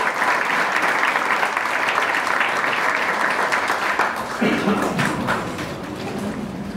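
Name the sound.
audience applause welcoming a speaker in church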